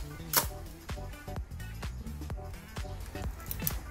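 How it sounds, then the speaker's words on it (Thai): A Canon VL rangefinder camera with a loose shutter curtain is tested at B speed, giving a quick series of sharp mechanical clicks and clacks, close up over a faint background hum. "ผมจะเทสสปีดชัตเตอร์เลยแล้วกัน เทสที่สปีดชัตเตอร์ B"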